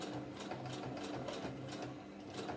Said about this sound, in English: turn around, leave the needle in, and turn the material around and sew back up again the other way along the same line